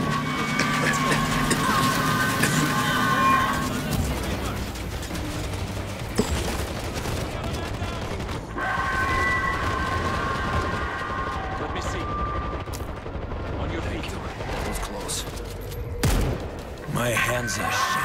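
Gunfire in the zombie shooter World War Z, set in Moscow, with bursts of shots and booms running steadily throughout amid dense combat noise and voices calling out.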